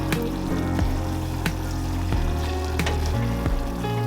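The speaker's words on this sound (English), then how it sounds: "your sauce will bubble again" Homemade bourbon caramel sauce bubbles and sizzles steadily in a pan while being mixed, with a spoon clinking sharply against the pan every second or so, close up and with no talking.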